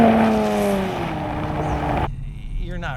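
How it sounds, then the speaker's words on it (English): A 2023 Nissan Z with a 4-liter twin-turbo V6 accelerates hard, its engine note rising loudly and strongly before cutting off abruptly near the end, followed by a quieter lingering rumble. "you got a 4-liter twin-turbo V6 engine in here"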